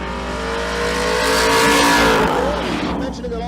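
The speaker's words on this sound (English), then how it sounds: "The left lane is Chris Benkin, the C6 Corvette." C6 Corvette drag racing at Twin Cities Raceway, a loud engine roar rising and sweeping past with a commentator talking over it.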